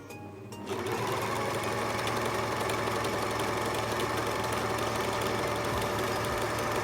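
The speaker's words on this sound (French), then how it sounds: "Tu vas venir surjeter ou faire un point zigzag au niveau du haut du masque sur la largeur" A sewing machine runs a zigzag stitch along the top edge of a fabric mask, starting abruptly and then holding a fast, steady mechanical whir and clatter, close and loud with no speech.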